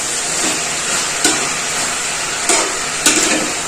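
Mixed vegetables cook in a pot on a home stove, giving a steady close sizzle and bubbling hiss broken by a few brief scraping stirs.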